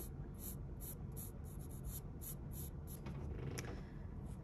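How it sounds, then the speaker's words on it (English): Graphite pencil scratching across paper while sketching the outline of an apple for a still life, steady soft strokes running throughout, close and quiet with no voices. "I can start drawing the actual shape of that apple"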